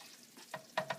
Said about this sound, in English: the sauce is sizzling